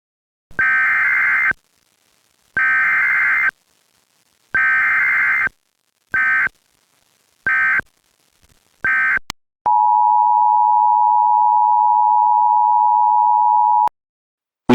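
Emergency Alert System tones blare: several loud, buzzy bursts of differing lengths separated by gaps, followed by a long, steady single-pitch tone that holds for about four seconds before cutting off abruptly.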